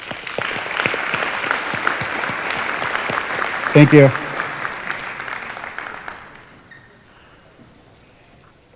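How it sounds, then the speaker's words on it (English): An audience applauds at a health and wellness building's grand opening: steady, dense clapping for about six seconds that then fades to quiet room tone, with a brief spoken voice near the middle. "So round of applause for everyone here"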